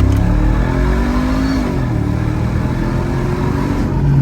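A car engine under way, its steady droning hum rising and falling in pitch as it accelerates while driving, heard from inside the car and continuous throughout with no talk.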